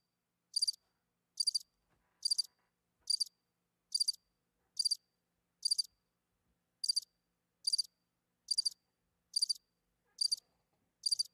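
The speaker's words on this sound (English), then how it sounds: "It's like crickets at midnight." Crickets chirp in quiet night air, sounding a dozen or so short, evenly spaced trilled bursts against near silence.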